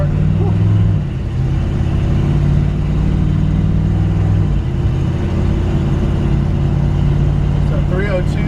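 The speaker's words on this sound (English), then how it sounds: "And this is a 302 V8. It sounds like it's built a little bit." Built Ford 302 V8 idling in a 1966 Ford F100 pickup with a C4 automatic, a loud steady low rumble with a slight dip in pitch partway through, continuous and close.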